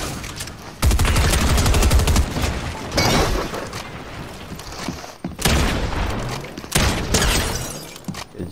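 Gunfire in the video game Fortnite rings out in several loud bursts of rapid shots, separated by brief quieter gaps with scattered crackling.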